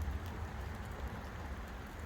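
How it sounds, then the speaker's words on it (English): Rain falls steadily on a walking trail near a shelter at High Tor above Matlock, a soft, even hiss with no distinct drops or voices. "Rain."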